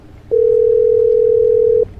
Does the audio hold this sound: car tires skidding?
no